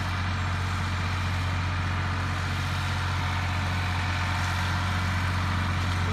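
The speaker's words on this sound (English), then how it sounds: "The tractor sounds good, doesn't it?" Farm tractor engine idling steadily while rolling round hay bales along an overgrown old logging road, a continuous low rumble with a strong low hum that stays even and close throughout, no voices.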